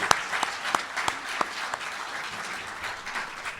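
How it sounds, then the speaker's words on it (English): At an annual meeting, the audience claps for the team: a few sharp early claps swell into steady, moderately loud group applause that continues to the end. "And one more round of applause for our team."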